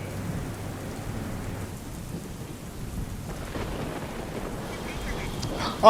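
Heavy, continuous rain pours over Vadodara as a steady, broad hiss, with a brief sharp sound at the very end.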